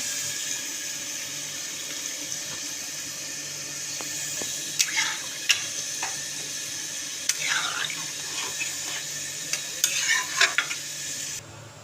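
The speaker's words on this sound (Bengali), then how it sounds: "এখানে ঝোলটা ফুটছে" Meat curry gravy simmering in a pot while being stirred, with a steady bubbling hiss and intermittent scraping and clinking of a spoon against the pan, close by and alone.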